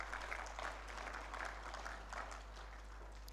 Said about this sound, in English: I would like to invite the members to clap for you.